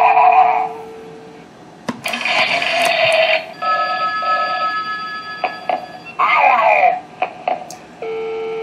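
A Halloween telephone prop gives a loud, close electronic ring in repeated bursts with brief pauses between them, mixed with a few clicks and tones.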